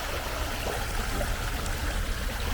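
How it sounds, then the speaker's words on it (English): A small waterfall on a trail in Charlotte, North Carolina rushes and splashes steadily and close by, a continuous broad hiss of a small cascade with no voices. "little tiny waterfall."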